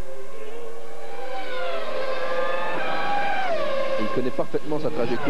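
Mika Häkkinen's 1998 Formula 1 car on a qualifying lap at the Canadian Grand Prix, engine wailing and rising through the gears then dropping for a corner, under French commentary.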